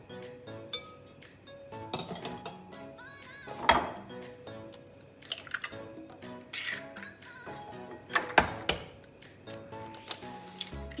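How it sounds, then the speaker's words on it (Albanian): Eggs beaten in a bowl for zupa, a whisk or fork clinking rapidly and irregularly against the bowl's side, with a few sharper knocks standing out. "Në fillim syjmë vezat."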